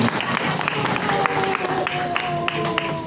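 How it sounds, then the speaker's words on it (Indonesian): An audience at an Indonesian club's third-anniversary gathering claps together, a dense burst of applause mixed with crowd noise and a voice or tones sounding over it. "Tepuk tangan bareng-bareng."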